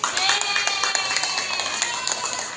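Kindergarten children at a fire station visit pat their chests in rough unison, a quick run of scattered, slightly uneven slaps that repeats steadily and fades a little toward the end.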